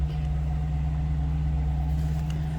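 A 2014 Chevrolet Corvette Z51 engine idles steadily with a deep, constant low rumble, close by and unchanging, with no talking.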